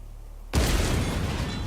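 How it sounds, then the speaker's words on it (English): A grenade detonates in Helldivers 2, blasting a door open with a sudden loud boom that cuts in after a quiet moment and rolls into a sustained, rumbling roar of debris. "if you throw a grenade at that, that'll blow that door open"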